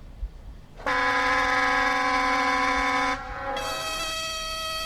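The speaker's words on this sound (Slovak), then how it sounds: "zatrúbime, že prichádzame" Train horn in a Roblox train simulator game, a loud sustained multi-tone blast of about two seconds that shifts into a second held chord for the rest of the clip, heard alone.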